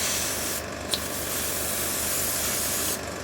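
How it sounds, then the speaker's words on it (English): Steady airbrush hiss from a 0.5mm airbrush spraying paint onto a scale model with tracks and wheel wells, a close, continuous spray with brief pauses near the start and end. "So when you're spraying the lighter colours"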